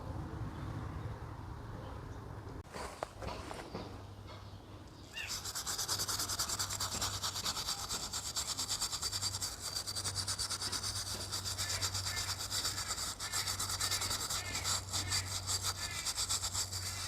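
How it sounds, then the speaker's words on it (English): Steady back-and-forth scrubbing rasps loudly and close while crud is cleaned off a thermostat, keeping up a continuous rhythmic scraping after a brief quieter start, with no talking. "We'll get all this crud cleaned off of the thermostat."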